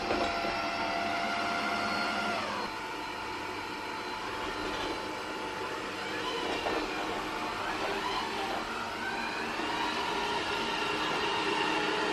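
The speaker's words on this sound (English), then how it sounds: "here is the Eufy X10 in action, and mopping and hoovering my floor" Eufy X10 robot vacuum mopping and hoovering a home floor, giving a steady whirring drone with a shifting motor pitch that runs throughout, close and continuous with no talking.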